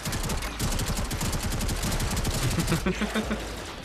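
Shotgun gunfire in the Warframe video game crackles in rapid bursts of repeated blasts, mixed with game effects and a brief tonal sound near the end, with a voice talking underneath.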